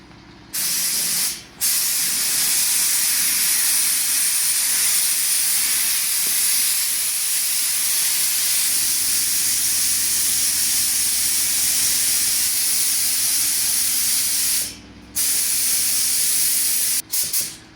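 Steady, loud hiss of a paint spray gun laying the final coat on a car, continuous for most of the stretch with two brief pauses where the trigger is released, plus a low hum underneath.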